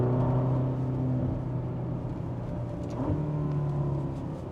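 A Ferrari GTC4Lusso T pulls forward with a steady, smooth engine drone heard from inside the cabin, its pitch holding then shifting slightly mid-run before settling back into a continuous hum.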